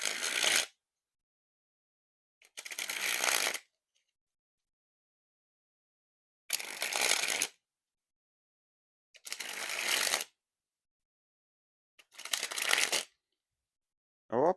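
Five separate bursts of playing cards being sprung from hand to hand, a Bloc 420 deck with Cardamone stock finish, each a crisp fluttering riffle about a second long, close and clear, with silent gaps between.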